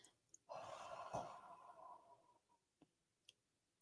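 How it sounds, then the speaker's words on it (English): A single slow, deep exhale during a guided breathing exercise, a soft, airy breath lasting about two seconds and followed by a few faint clicks, close and quiet. "take a deep breath in and exhale gently and slowly"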